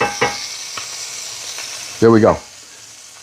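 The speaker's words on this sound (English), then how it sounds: "Now we're going to saute this up so that we're making baked beans" Ingredients for baked beans sauté in a hot pan, a steady soft sizzle with a few stirring clicks, while someone speaks briefly over it.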